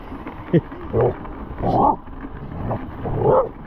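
A dog snapping at the tyres of an electric mountain bike on a rural trail in the Barétous valley gives a series of short barks and yips, close by, with wind and bike noise between bursts.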